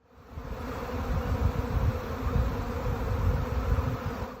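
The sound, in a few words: buzzing of hundreds of thousands of bees covering a man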